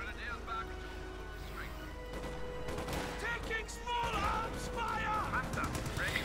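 Machine gun fire from an MG34 and scattered explosions in a World War II combat video game, a dense steady barrage of rapid bursts running under continuous battle noise throughout.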